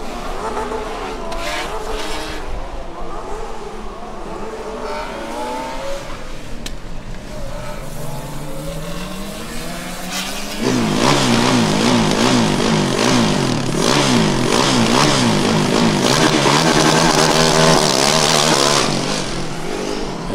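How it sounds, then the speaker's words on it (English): A Delft Formula Student race car sets off on an autocross run at Formula Student Germany, its engine climbing through rising, stepped revs before a sudden, louder surge of hard acceleration that holds for several seconds, heard fairly close. "That was the sound of the Delft car setting off on their 5th run"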